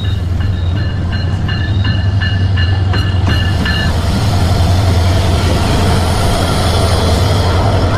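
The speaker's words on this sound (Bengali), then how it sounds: "চট্টগ্রাম ট্রেনের ছাদে ভ্রমণ করতেছি" Chattala Express passenger train running in Bangladesh, heard from its roof: a loud, steady rumble of wheels and rushing wind. Rhythmic clicking and squeaking come from the rails in the first half, and no voices are present.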